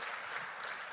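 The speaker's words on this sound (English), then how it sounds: "That hand clap is not enough." Applause from a church congregation welcoming a guest speaker at a Sunday service, steady dense clapping sustained throughout at moderate distance.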